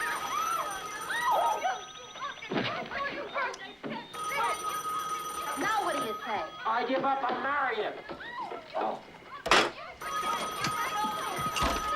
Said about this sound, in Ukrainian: Телефон розривається